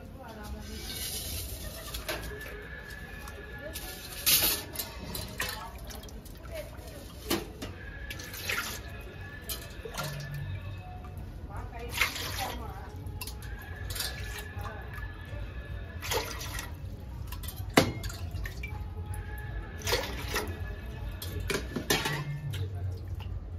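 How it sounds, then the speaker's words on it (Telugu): Water is poured cup by cup into a pot for jaggery payasam, several separate splashing pours with pauses between them, birds chirping faintly in the background and occasional clinks of the cup. "ఇదే కప్పుతోటి ఒక 8 కప్పుల వరకు నీళ్లు తీసుకుందామండి."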